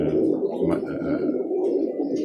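Birmingham Roller pigeons cooing close by, a continuous layered murmur of low, throaty coos from several birds.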